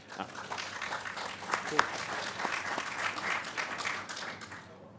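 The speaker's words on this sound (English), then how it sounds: "I forgot to call for the round of applause, but it was so spontaneous that it required no intervention from me" Spontaneous audience applause after a presentation at a policy event on the UK's Integrated Review and the Russia–Ukraine war, uneven clapping with a few louder claps and some speech mixed in before it tapers off.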